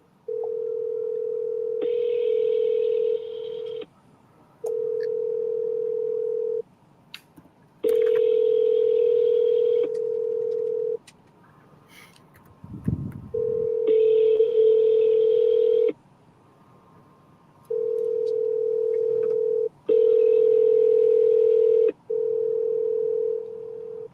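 Telephone ringback tone on an outgoing call before it reaches voicemail, a repeating electronic ring in regular bursts with short gaps, clear and steady, with a brief noise in the middle.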